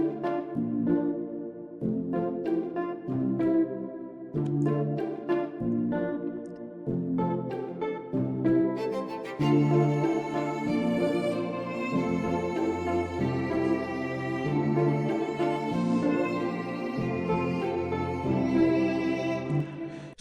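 Afrobeats instrumental beat with guitar and an emotional, reverb-soaked violin, a steady rhythmic groove with plucked guitar patterns and a bowed violin line entering partway through, playing alone.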